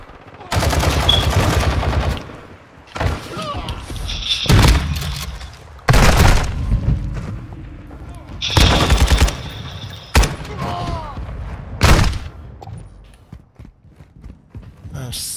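SMG fire in a Call of Duty Modern Warfare II infected match comes in several rapid bursts of loud, close automatic shots separated by short pauses, with a player's voice talking in the gaps.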